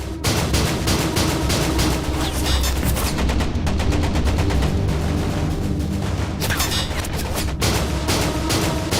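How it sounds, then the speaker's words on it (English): Sailors on a tanker at sea fire their guns in loud, dense, continuous bursts of gunfire, layered over a rumbling background of booms, with no speech. "And its sailors open fire with their guns."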